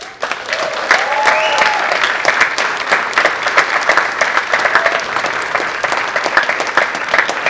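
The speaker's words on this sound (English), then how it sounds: "Now keep on clapping for Victoria Alexander." An audience applauds a speaker at a live feminist event, a loud, dense wash of clapping that holds for several seconds, with a few cheers rising briefly inside it.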